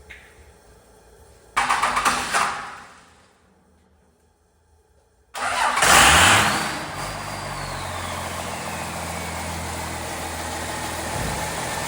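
A 1953 Ford F100 fitted with a Cummins diesel, air in the fuel lines, cranks briefly, goes quiet, then fires and catches into a loud, steady close-up idle that settles and keeps running.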